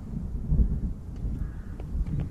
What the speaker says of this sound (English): I love the sound of thunder.